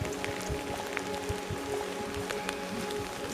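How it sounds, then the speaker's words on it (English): Steady rain patters on the surface along the Ridgeway trail, a continuous soft hiss broken by scattered close drips and splashes, with no talking. "10 a.m. started to rain,"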